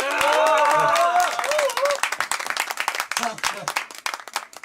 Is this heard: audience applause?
yes